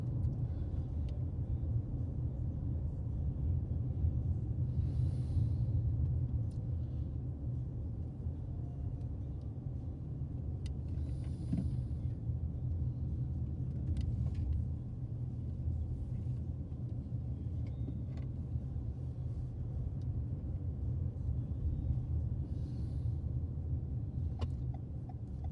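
A car drives slowly around the outside of a prison unit, giving a steady low engine and road rumble from inside the vehicle, constant and unbroken, with no one speaking.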